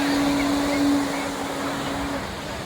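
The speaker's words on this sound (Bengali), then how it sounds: "এই পুরীর ঢেউ দেখুন, আলাদা একটা ঢেউ পুরীর।" Sea waves roll onto the beach at Puri, a steady broadband wash of surf that swells and eases over a few seconds with no voices.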